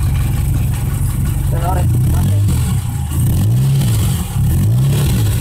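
Suzuki Carry 1.0 engine revved in repeated rising and falling surges over a steady idling rumble, loud and close, with brief voices mixed in.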